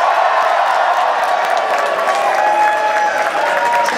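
An audience at a Eurovision-related interview event in Brighton applauds and cheers for a winner, a loud dense wash of clapping with scattered whoops filling the whole stretch.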